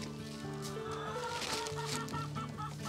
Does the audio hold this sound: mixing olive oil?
no